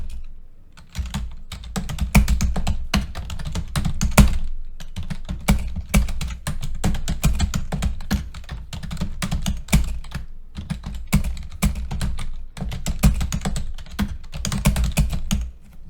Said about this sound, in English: One is I could just type.